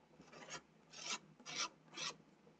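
Sandpaper rasping excess 3D paste off a craft bottle holder, four distinct back-and-forth strokes in a steady rhythm, close and fairly soft, with no talking.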